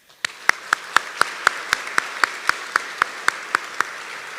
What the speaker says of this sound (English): I'd like to give a round of applause to Mrs. Leslie Ruel